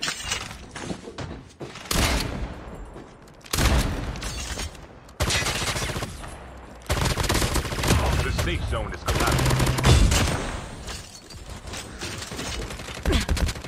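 Gunfire in a battle royale video game, including shotgun blasts, comes in loud bursts and rapid volleys across the stretch, with heavy impacts and breaking sounds between shots.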